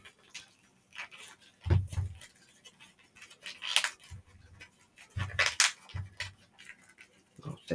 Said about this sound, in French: je vais venir fermer ma fermeture éclair et je vais retourner ma mini trousse